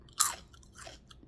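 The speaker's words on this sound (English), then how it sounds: "So these are okra chips. These are the ones I'm eating now." Crisp crunching of dehydrated, lightly seasoned okra chips made in an air fryer's dehydrator, one sharp loud bite followed by a few softer chewing crunches, close up with no talk.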